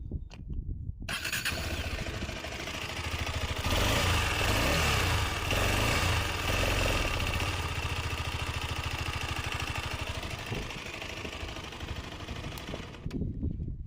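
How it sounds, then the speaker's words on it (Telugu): A KTM Adventure 250 motorcycle engine starts and settles into a loud, steady idle, rumbling evenly close by for over ten seconds before cutting off. "బైక్ స్టార్ట్ చేసి సౌండ్ అయితే ఒకసారి అయితే వినండి ఫ్రెండ్స్"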